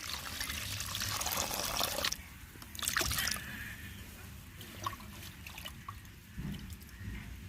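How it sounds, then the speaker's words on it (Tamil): Water pours steadily into a cooking pot with turmeric powder for a fish curry for a couple of seconds, then stops, followed by scattered drips, clinks and faint handling sounds nearby. "தேவையான அளவு தண்ணி ஊற்றிக்கிறோம்."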